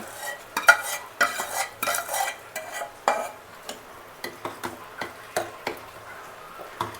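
A utensil stirs ash gourd sambar with tamarind in a pot, with irregular clacks and scrapes against the metal and a faint simmer underneath.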